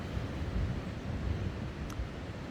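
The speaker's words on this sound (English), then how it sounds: "It's quite a windy day today." Wind blowing outdoors on a damp day at a hillfort ruin in northern Galicia near the coast, a steady, full rumbling roar buffeting the microphone with no voices.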